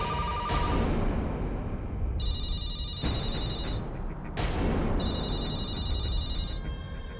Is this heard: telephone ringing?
yes